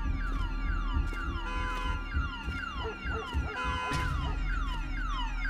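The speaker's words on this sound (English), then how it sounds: "That's a beep." A beeping alarm sounds continuously, its electronic tones repeating in a fast, steady cycle over low background rumble, with no talking.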